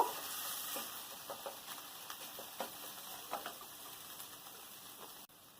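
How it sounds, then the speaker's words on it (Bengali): Crab claw meat frying in oil gives a faint, steady sizzle close by, broken by soft irregular stirring clicks and pops, with no talk. "এবার এই তেলের উপর যে দিয়েছিলাম, এগুলোকে একটু ভেজে নেব।"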